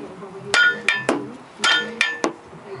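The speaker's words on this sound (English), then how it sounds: "you've got to strike this metal casting around it" A hammer taps a metal casting on a light vehicle's steering during clutch work: five or six sharp, ringing metallic strikes in an uneven rhythm, close and fairly loud, with no talk over them.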